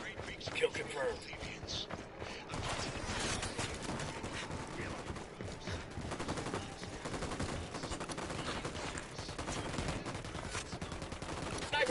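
Gunfire in a PS4 video game, a busy rattle of shots mixed with game noise and radio chatter, fairly faint and steady throughout rather than standing out as distinct single cracks.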